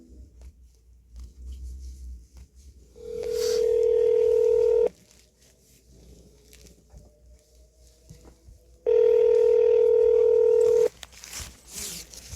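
Two long, steady telephone keypad tones sound on a phone call, each lasting roughly two seconds with a short gap between them, clear and loud over a quiet, faintly noisy line with no talking.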